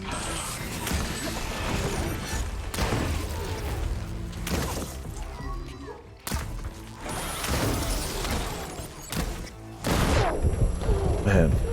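Enemy gunfire aimed at the player in Horizon Forbidden West: loud, repeated bursts of shots and crashing impacts in irregular volleys over a dense, noisy combat background.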